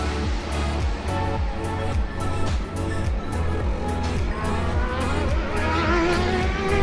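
A 1971 Lola vintage race car at the Dix Mille Tours du Castellet 2023 roars loudly and steadily on track, its engine note rising and falling through repeated revs and shifts.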